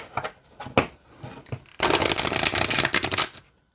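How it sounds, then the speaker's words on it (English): A deck of oracle cards is riffled and shuffled by hand, a few light taps and flicks followed by a dense, close, crisp rattle of cards lasting under two seconds. "Okay, let's see how it shuffles."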